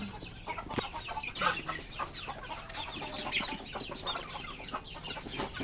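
Chickens cluck and murmur continuously at close range, with overlapping hen calls and a farmyard bustle running throughout at moderate level, no talk.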